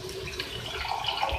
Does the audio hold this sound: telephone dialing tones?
no